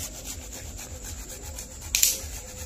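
Peeled ginger is rubbed into paste on a hand grater in a village kitchen, making soft, rhythmic scraping strokes, then one sharper, louder rasp near the end.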